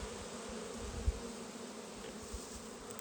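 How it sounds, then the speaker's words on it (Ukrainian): Honey bees buzz steadily around an apiary's hives while the bees are carrying pollen, a continuous close insect drone with a single soft thump partway through. "На кожній бджолі пилок"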